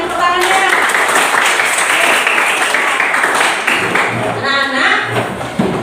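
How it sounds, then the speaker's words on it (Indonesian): Schoolchildren in a classroom give a dense round of hand clapping that runs loud and continuous for several seconds, then thins out near the end as a few voices come in over it. "Bagus sekali ya, berikan tepuk tangannya"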